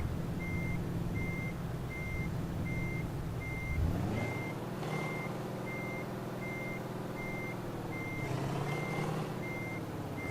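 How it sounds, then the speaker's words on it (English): A truck engine in Euro Truck Simulator 2 hums low and steady while a reversing alarm beeps in an even repeating rhythm. The engine revs up and settles twice under the ongoing beeps. "I love this exhaust sound."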